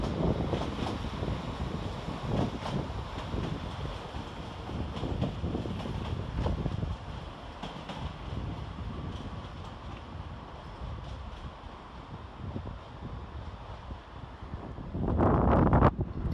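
A Class 195 Northern unit, 195.113, arrives at Leeds station on a service from Blackpool North to York. Its steady, close rumble fills the platform and swells louder in the final seconds.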